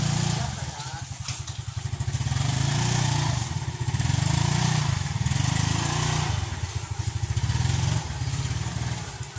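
A motorcycle engine idles nearby with a rapid, throbbing putter that swells and eases in waves, with voices talking faintly over it.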